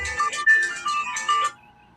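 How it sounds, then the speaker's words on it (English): A mobile phone ringtone plays a bright, cheerful electronic melody of short repeated tones for about a second and a half, loud and close, then cuts off. "Somebody's phone."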